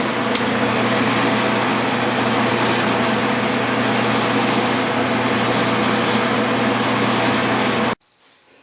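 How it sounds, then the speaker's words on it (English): A lathe drills a 5/32 inch hole 1 1/4 inches deep into a steel shank for a Unimat tailstock die holder, giving a steady, loud, even machine whir that runs unbroken and then cuts off abruptly. "now I'm drilling 5/32 diameter"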